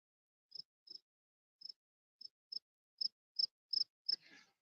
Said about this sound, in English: Loud ass cricket.